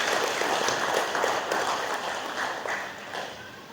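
Seminar audience at a parenting session held at a school applauding, a steady dense wash of many hands clapping at moderate distance, fairly even throughout with a slight fade near the end.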